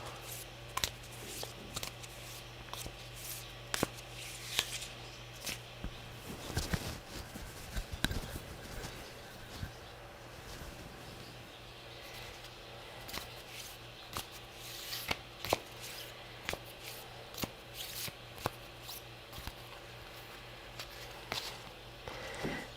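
A deck of oracle cards printed with quotes from The Untethered Soul is shuffled by hand. Quiet, close, repeated riffling and card-slapping bursts go on in irregular clusters across a long stretch, with a low steady hum behind them.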